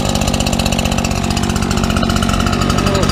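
Lawn mower engine running with the choke off: a loud, close, steady mechanical drone with a fast, even firing pulse that continues unbroken, with no talking over it.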